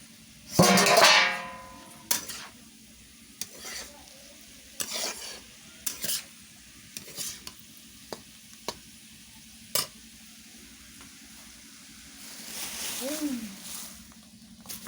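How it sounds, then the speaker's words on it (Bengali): Potatoes frying in oil in a pan, with a soft background sizzle and a series of short scraping stirs spaced across the clip, plus a louder burst of stirring near the start. "আর এপাশে দেখো কী কী রান্না চলছে। এই যে দেখো আলু ভাজা,"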